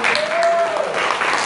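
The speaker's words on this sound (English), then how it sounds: "Oh, come on, clap and give God the glory." A church congregation claps together in a brief burst of applause, dense and close, with voices mixed in under the clapping.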